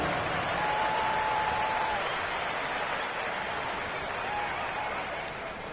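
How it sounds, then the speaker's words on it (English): A large arena crowd in the NBA 2K25 basketball video game applauds and cheers in a steady, dense roar of clapping that fades slightly toward the end. "Give yourself a round of applause"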